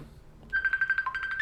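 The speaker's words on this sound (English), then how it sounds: "But excuse me, that's my phone." A phone ringtone starts partway through, a bright repeating electronic melody of quick pulsed notes over faint room noise, moderately loud and with no talk over it.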